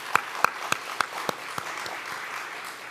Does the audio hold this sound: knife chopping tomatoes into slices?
no